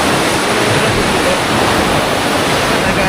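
Strong sea waves crash and surge in a continuous loud roar of surf, close by and with no break.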